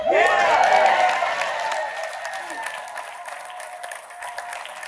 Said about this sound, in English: if you believe in that, cheer loudly right now